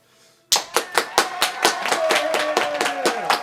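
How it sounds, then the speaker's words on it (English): Sudden burst of crowd applause with sharp, evenly spaced drum-like hits on top, about four per second, loud and steady after a quiet start, with some pitched instrument tones mixed in. "Along with the applause came a bunch of like drumming."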